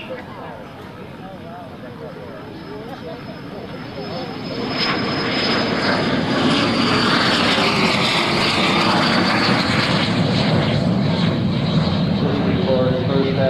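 An L-39 jet aircraft with a smoke system flies by as a broad, steady roar that swells after the first few seconds and holds loud, with talk faintly underneath.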